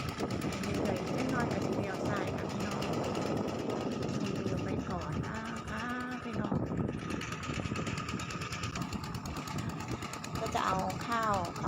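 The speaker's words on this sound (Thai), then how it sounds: "เป็นรถไถหน้าแล้วก็พวงอ่า" A walking tractor towing a trailer runs nearby with a steady chugging engine drone throughout, while someone talks over it at close range.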